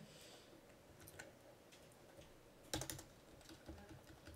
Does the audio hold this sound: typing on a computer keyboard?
yes